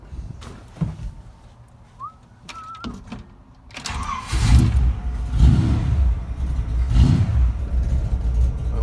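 A 1968 Chevrolet C10 longbed pickup truck engine is cranked and fires up after a tune-up. A few faint clicks come first, then the engine catches and settles into a loud, close, rumbling idle with rhythmic surges.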